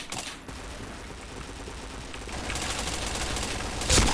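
Shooter video game gunfire crackles as steady rapid bursts at moderate volume, with a sharper, louder burst near the end and no talking.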